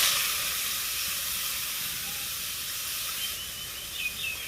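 Washed pumpkin slices hitting a hot pan for a prawn and ash gourd dish, a broad steady sizzle and hiss that eases slightly after the first moment, with small crackles near the end.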